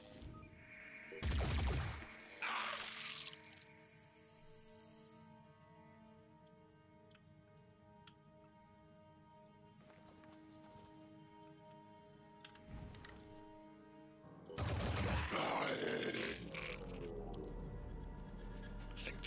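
Weapon fire in the tactical game Phoenix Point, two loud bursts of shots spaced apart over a quiet humming backdrop, with brief talk.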